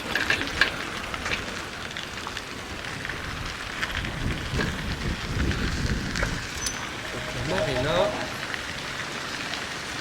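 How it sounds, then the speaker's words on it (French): Rain falling steadily around a marina area on Rangiroa atoll in French Polynesia, a soft continuous patter and hiss with a voice talking over it. "quand même il pleut pas mal en ce moment"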